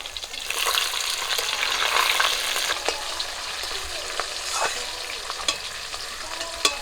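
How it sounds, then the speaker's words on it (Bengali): Pabda fish frying in a pan, a continuous crackling sizzle with occasional sharper pops and spatters, close and steady throughout. "মাছগুলো এদিকে ভাজা হতে থাক"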